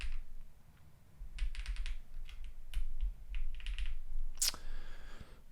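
Quick bursts of crisp, close keystrokes from a custom Mode Sonnet mechanical keyboard with foam inside, typed in short irregular runs with brief pauses and a sharper clack near the end.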